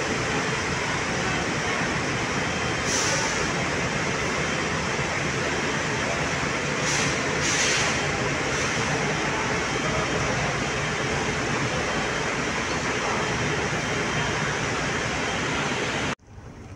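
LRT train station in Manila, with a steady loud wash of rail and station noise, a few brief higher-pitched squeals or hisses, and faint voices, cutting off abruptly at the end.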